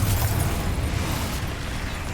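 Confringo blasting spell explosion in the Hogwarts Legacy video game: a loud, sustained blast with a deep rumbling low end that holds steady for about two seconds, with no talking.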